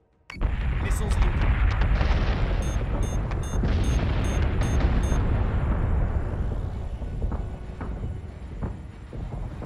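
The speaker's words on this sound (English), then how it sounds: "Missiles incoming." Incoming missile explosions batter a ship in a Battlestar Galactica space combat game: a sudden loud blast opens into a sustained, rumbling wall of booms and crackling detonations that slowly eases off.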